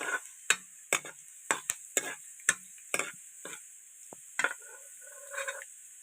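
Potatoes frying in a pan and being stirred, a steady sizzle broken by sharp, regular scrapes and clinks of the utensil against the pan, about one every half second, close and clear with no talk.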